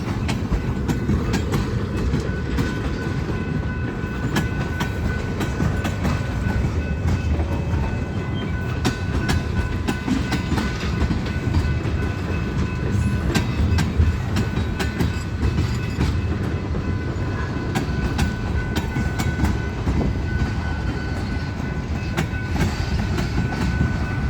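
A BNSF freight train led by locomotives 4162, 4227 and 4312 pulls slowly eastbound out of a rail yard, a steady close rumble with continuous wheel clatter over the rails throughout.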